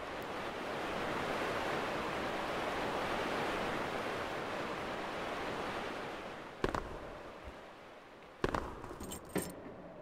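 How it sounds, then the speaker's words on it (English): A waterfall in the video game Thief rushes as a steady, broad roar, which gives way to a few sharp metallic clicks and clatters near the end. "There's waterfalls."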